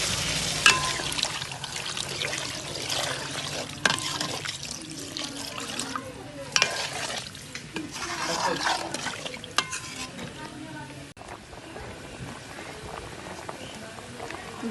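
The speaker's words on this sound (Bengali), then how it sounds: "এখন জল দিয়ে দেব।" Water poured into a pan of curry with eggplant and tomato, a continuous splashing, bubbling pour close by that fades toward the end, with a few clinks of the pan.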